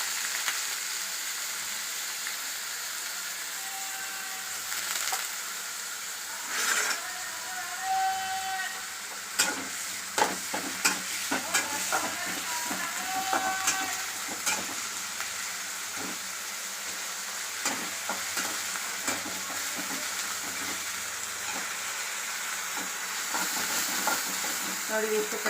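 Chopped spring onion greens frying in a pan, a continuous hiss of sizzling oil with bursts of stirring scrapes and crackles through the middle, close and steady.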